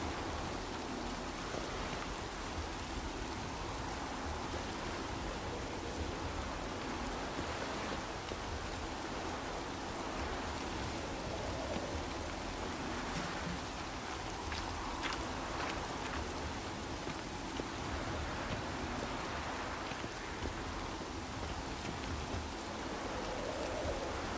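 Steady hiss of rain falling continuously in the video game The Witcher 3: Wild Hunt, a dense even wash of drops with faint scattered patter, no voices.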